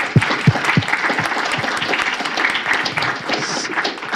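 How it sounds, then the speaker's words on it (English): Audience applause for four presenters at a university faculty dean's symposium, a loud, even roar of clapping from a seated crowd lasting the whole clip, with a few heavier claps standing out near the start. "So one more round of applause for all the 4 presenters."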